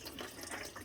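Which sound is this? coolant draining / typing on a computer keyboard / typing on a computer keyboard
coolant draining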